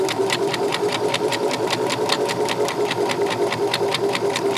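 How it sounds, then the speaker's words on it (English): A sewing machine stitches the seam of a drawstring bag, running at a steady, even pace with a rapid regular clatter of the needle, close and continuous. "you're going to now sew to your first mark"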